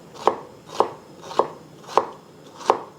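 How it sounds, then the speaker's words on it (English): A knife chops a seedless English cucumber into matchsticks on a cutting board, five crisp, evenly spaced cuts close up with nothing else heard. "Just want to cut these into matchsticks."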